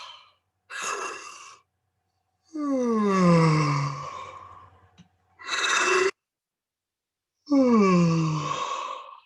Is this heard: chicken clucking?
no